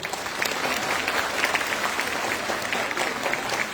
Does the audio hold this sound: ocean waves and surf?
no